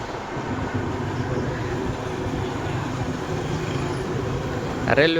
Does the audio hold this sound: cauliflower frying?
no